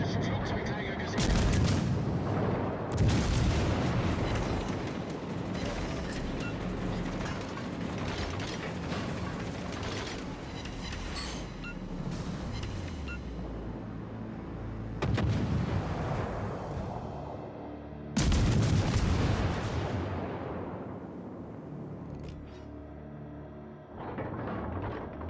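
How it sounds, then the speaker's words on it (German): 152 mm naval guns fire in World of Warships Legends, heavy booming salvos repeating every few seconds over a dense roar of battle sounds and mechanical clatter, with a voice speaking over it. "Da seht ihr jetzt mal, wie stark so 152 mm Kanonen halt sein können."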